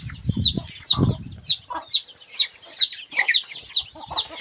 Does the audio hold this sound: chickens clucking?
yes